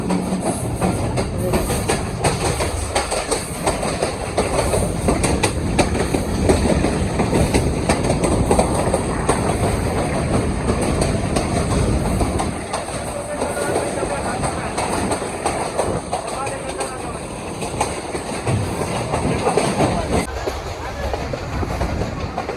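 A Pakistan Railway train rolls steadily past a station near Mandi Bahauddin, with continuous loud rumble and rhythmic clickety-clack of wheels over rail joints, heard close from on board, with someone talking over it.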